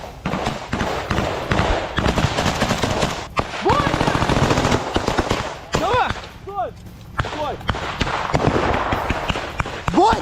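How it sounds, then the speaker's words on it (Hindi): Ukrainian special forces fire machine guns in combat near Bakhmut, rapid loud bursts with brief pauses between them, mixed with shouting voices and a few sharp whistling sounds. "यूक्रेन की स्पेशल फोर्स मशीन गन से गोलियां चलाते हुए आपको दिखाई दे रही होंगी"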